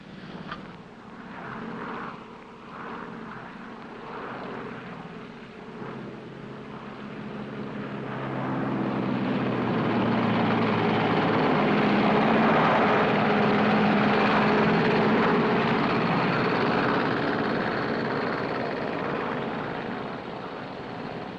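Propeller airplane engines drone steadily in flight, a low rumbling hum that grows louder and fuller, then holds as a broad continuous roar heard from inside the aircraft.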